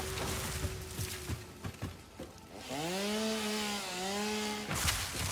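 A chainsaw in the video game Satisfactory revs at a mid distance, first with rough bursts and cutting noises, then in a sustained whining drone that dips briefly and stops, followed by a short rushing burst.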